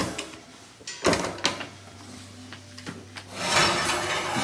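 Metal oven grates are tilted up and slid out of a Jade Dynasty stove oven with the door open: scraping rubs, a couple of sharp clanks and a longer grinding slide, close and moderately loud with no talk.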